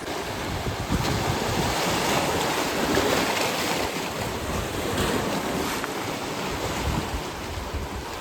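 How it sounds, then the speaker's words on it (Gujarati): Big ocean waves surge against a rocky island shore below cliffs, a continuous loud wash of surf with gusting wind buffeting the microphone and no voices. "મોજા મોટા મોટા મોજા આવે છે અને ઉપર સુધી પાણી આવી જાય છે"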